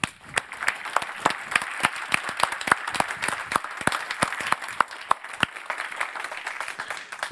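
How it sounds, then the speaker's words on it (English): Applause at PyCon Sweden 2019 closing remarks, a smaller audience clapping steadily with distinct individual claps heard close and fairly loud throughout. "So big applause to them"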